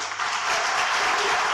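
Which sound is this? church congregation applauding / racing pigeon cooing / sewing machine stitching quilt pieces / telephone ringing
church congregation applauding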